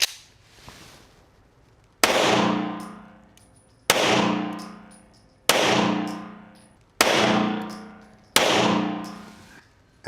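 A Browning Hi Power pistol fires five evenly spaced shots at an outdoor range, each a sharp loud crack with a ringing decay, about one and a half seconds apart.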